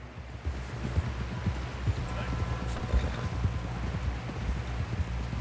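Steady clip-clop of horse hooves trotting at an even rhythm in the video game Red Dead Redemption 2, in snow, with low rumbling ambience underneath and no clear voices.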